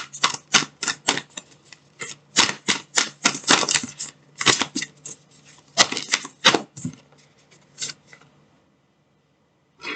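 Oracle cards are shuffled in quick, crisp bursts of flicking and slapping, close and rhythmic, with short pauses between runs before it trails off into silence.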